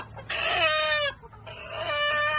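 Desi free-range poultry chicks being handled on a farm give a few close, shrill clucking calls in two short bursts separated by a brief pause, with no talking.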